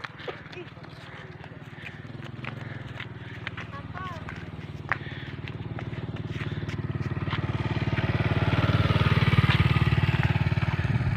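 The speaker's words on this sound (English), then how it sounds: "Awas-awas motor dek, minggir dek." A motorcycle passes along a street, its engine growing steadily louder toward the end, while people talk nearby throughout.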